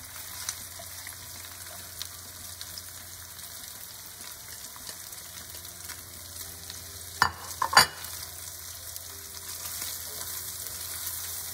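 Chopped green onion, onion and garlic frying in bacon fat in a pan for lentils, a soft steady sizzle close by, broken by a few sharp clatters of a spoon stirring around the middle, with no talk.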